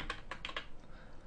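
Quick clicks of computer keyboard keys as a search term is typed, four or five crisp close taps in a short burst followed by quiet.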